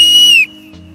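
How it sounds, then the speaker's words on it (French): A referee's whistle blows one loud, sustained shrill blast during a rugby tackle challenge in the rain, cutting off abruptly with faint background noise remaining. "Au coup de sifflet."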